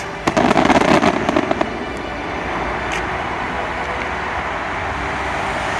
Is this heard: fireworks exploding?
yes